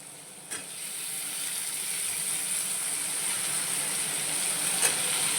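Bitter gourd pieces frying in oil with potatoes and onion, giving a steady, even sizzle and hiss that stays close and constant throughout, with a couple of faint clicks near the start and end.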